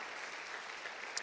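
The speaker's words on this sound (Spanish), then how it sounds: "Démele otro aplauso al Señor Todopoderoso." A church congregation claps together, a steady, even wash of applause heard from some distance and fairly faint, with no gaps.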